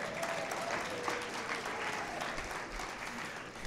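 An audience at an evening event claps in a steady, continuous round of applause that fills the clip at an even level, with a faint voice rising briefly above it.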